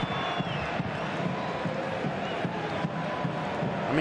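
The Camp Nou stadium crowd cheers as Leo Messi warms up, a steady wall of distant crowd roar with faint shouts and whistles throughout, unbroken for several seconds.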